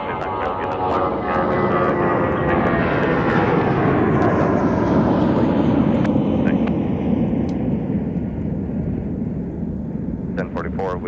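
An airplane takes off from a runway at Minneapolis–St. Paul airport, its engines a loud, sustained broadband roar that holds steady for the whole stretch, with a faint voice briefly audible in the background.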